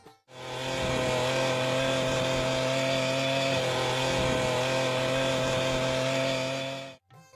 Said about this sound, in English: Oleomac and other popular companies have introduced hedge trimmer, pole pruner and other attachments for this weed cutter machine.